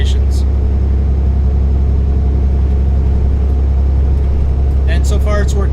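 A heavy truck engine in the Euro Truck Simulator 2 driving game, with engine and truck sounds turned all the way up, drones as a loud, steady low rumble throughout, and brief voice-like bursts surface near the start and end.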